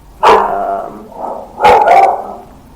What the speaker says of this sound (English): I have 2 dogs. They're Basset Hound Chihuahuas, and I love them, but they bark at